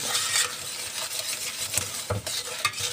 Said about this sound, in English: In the pan I have my butter and my brown sugar, and it will melt down